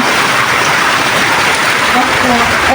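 Heavy rain pours down steadily in Chattogram during Cyclone Remal, a loud, dense and continuous hiss with no breaks.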